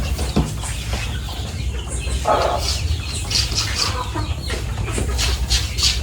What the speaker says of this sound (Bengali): এই ফেন্সি মুরগি তো ব্ল্যাক আমেরিকান সিল্কি